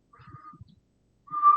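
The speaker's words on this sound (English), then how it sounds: "can you whistle?" A patient whistles during a cranial nerve exam, two short faint whistled tones separated by a pause, with soft low rustles and breaths between them in a quiet room.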